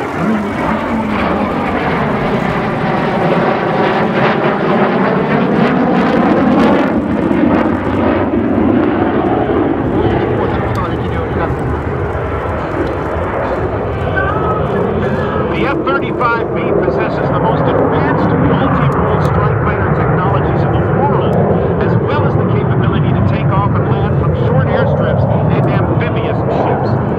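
An F-35B Lightning fighter jet roars during a demo flight at an air show at Iwakuni base, shifting to hovering mode. The engine is loud and continuous with a pitch that sweeps and rumbles, under an announcer's voice on the public address.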